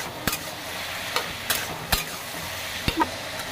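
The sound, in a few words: ash gourd being stirred in a pan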